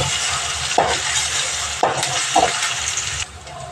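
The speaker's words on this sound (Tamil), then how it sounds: "வெங்காயம் நல்லா வதங்கினதும் கொஞ்சமாக இஞ்சி பூண்டு பேஸ்ட்டு" Onions sautéing with ginger garlic paste in a pan: a loud, continuous close sizzle broken by a few sharp scraping stirs of a utensil against the pan, with no talking.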